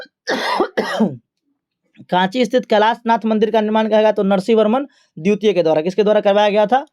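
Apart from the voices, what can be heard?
cough from speaking continuously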